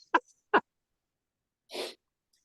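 A man sneezes once during an interview: two short vocal catches, then a single loud, breathy burst, close and clear against otherwise silent air.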